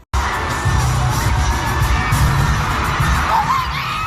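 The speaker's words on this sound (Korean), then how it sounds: "오마이갓이라는 비명이 나올" A concert crowd screams and cheers at full volume, a dense, continuous roar of shrieking voices with a few whoops rising above it.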